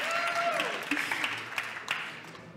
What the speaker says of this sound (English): give applause for like the front row